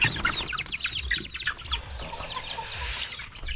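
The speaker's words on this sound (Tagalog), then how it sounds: "Mga manok po." Chickens clucking and squawking close by, a busy overlapping stream of short calls and chirps over low rustling and background noise.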